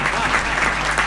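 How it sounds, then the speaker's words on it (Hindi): A kavi sammelan audience claps together, a loud, dense burst of applause sustained the whole moment. "जरा ताली बजा के एक बार बता दीजिए"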